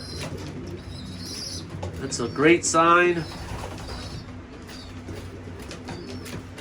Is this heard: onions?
no